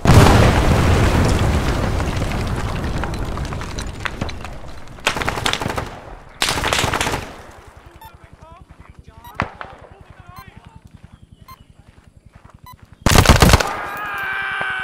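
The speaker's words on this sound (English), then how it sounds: "detonating the tower." Arma 3 battle around a tower being detonated: a long loud rumbling blast fades into rapid gunfire, with further sharp explosive bursts and scattered shots, and voices heard in places.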